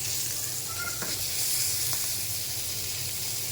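Hilsa fish fries lightly in a spoonful of oil, a steady, continuous sizzle with a few faint stirring clicks throughout.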